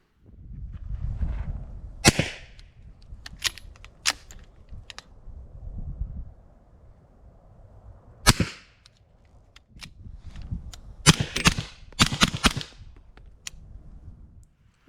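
Suppressed 300 Blackout 220-grain subsonic rounds fired through a SilencerCo Hybrid 46M in its long configuration: a series of sharp, muffled cracks spaced irregularly, several close together near the end, over low background rumble.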